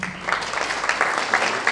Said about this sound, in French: M. Soumaré, sous vos applaudissements.